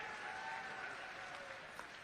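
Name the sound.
applause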